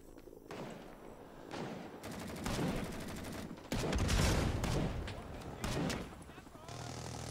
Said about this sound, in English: there's an M60 gunner over here, it sounds like